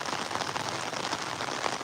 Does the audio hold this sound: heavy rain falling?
yes